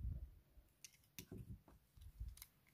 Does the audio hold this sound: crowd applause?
no